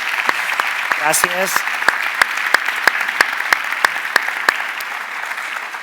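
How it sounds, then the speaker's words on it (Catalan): An audience at a round-table discussion applauds the panel participants with steady, sustained clapping filling the room, while a voice briefly says a word over it. "Un fort aplaudiment, sí, a les participants."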